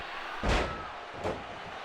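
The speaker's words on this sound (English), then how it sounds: "And the awesome Australian brings brings Natalya crashing down into the mat with the arm buster." Two heavy impacts of a wrestler crashing onto the ring mat during a televised WWE women's tag match, one big thud followed by a lighter second bump, loud over steady arena crowd noise.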